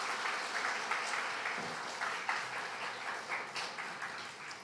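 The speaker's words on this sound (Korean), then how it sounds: "서로에게 격려의 박수 한번 하겠습니다." A masked church congregation at a Sunday worship service claps in encouragement, a dense, fairly quiet patter of many hands that continues steadily throughout.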